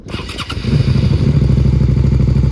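A Suzuki SV650S motorcycle with a full exhaust starts up close by, a brief cranking clatter catching into a loud, steady, throbbing idle.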